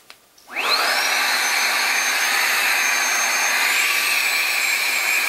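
A Baseus A3 cordless car vacuum cleaner with its brush nozzle fitted switches on after a couple of faint clicks, rising in pitch into a steady, loud, high whine with an airy rush that holds to the end.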